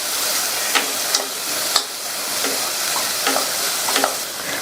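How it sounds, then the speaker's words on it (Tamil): Chopped vegetables and cauliflower sautéing in a pan for soup, giving a steady low sizzle with a few scattered clicks and scrapes of stirring, close and moderately loud, no talk. "சேர்த்து இந்த வெஜிடபிள்ஸ் எல்லாம் 1 நிமிஷத்துக்கு வதங்கட்டும்."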